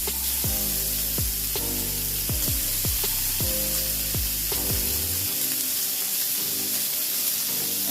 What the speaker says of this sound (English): We're gonna just go ahead and throw that bacon in there.